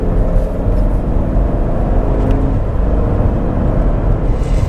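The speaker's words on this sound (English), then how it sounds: "This is a pretty rough piece of road, but the car does iron these bumps out pretty well." A 2021 Chevrolet Tahoe rolls over a rough stretch of road in Southern California, giving a loud, steady low rumble of tires and road noise inside the cabin with soft thumps from the bumps and no voices.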